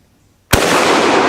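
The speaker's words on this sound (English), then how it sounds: "I just cocked this rifle, and I'm going to shoot it" A single loud, close rifle shot from a German Mauser Kar 98K, a sharp crack after brief quiet followed by a sustained rolling outdoor echo.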